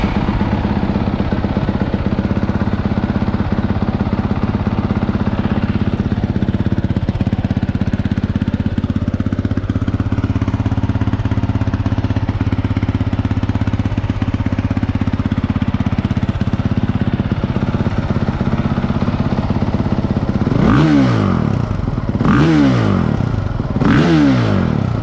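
A 2021 Honda CRF450RX dirt bike with a Yoshimura exhaust idles loudly and steadily up close for about twenty seconds, then three sharp throttle blips rev the engine near the end.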